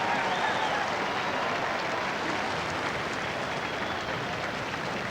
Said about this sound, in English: look and listen to the crowd giving Desert Orchid an incredible round of applause